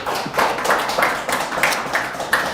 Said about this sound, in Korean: 하나님께 영광의 박수를.